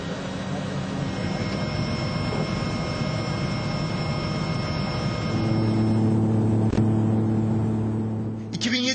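A seaplane flying over İzmit Bay on pollution patrol makes a steady, loud engine drone with broad rumble and a whine that persists throughout the clip.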